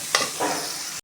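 Chopped tomato sizzling and being stirred in a hot pan for a jackfruit seed fry, a quick burst of frying hiss with a scrape of the spoon, close and brief, with no voices.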